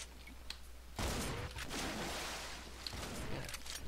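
Monsters fire guns in the video game Project Brutality, with a sudden burst of rapid, continuous shooting that keeps up for several seconds at moderate loudness and no talk over it.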